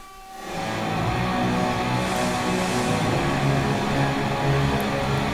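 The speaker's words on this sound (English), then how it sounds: "So this is the sound of raw truncation." Audio reduced to 8 bits by raw truncation with no dither, played through an Airwindows plugin. A dense, gritty, distorted wash fills the sound, fading in quickly and then holding at a steady, loud level, with no talking.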